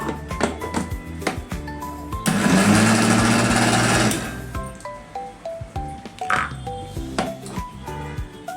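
A mixer grinder blends karale (niger seed) chutney in one loud, whirring burst of about two seconds. Before and after it, quieter tonal background sounds are heard.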